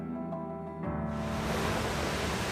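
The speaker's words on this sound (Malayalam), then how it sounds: "തിരമാലകൾ നല്ല ശക്തിയോടുകൂടിയാണ് തീരത്തടിക്കുന്നത്" Strong waves roll in and break on the white-sand shore at Dhanushkodi near Rameswaram, a broad continuous roar swelling after a brief quieter moment.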